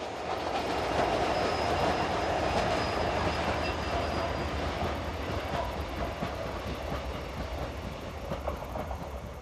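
Class 334 diesel train passing near Calasparra station on the Madrid to Cartagena route, a loud continuous rumble and rattle of wheels on track, gradually easing, with no voices.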